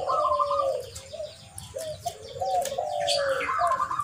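Zebra dove (perkutut) cooing nearby, a series of rhythmic rolling coos and trills over faint background noise.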